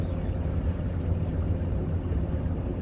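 A boat's engine runs at 1400 RPM, driving a Bruntons Autoprop propeller. It gives a low, even rumble that holds steady through the moment, with no voices over it.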